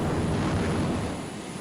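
A very fast jet plane landing in Arma 3 gives a steady, dense roaring rumble, loud and continuous, easing off slightly near the end.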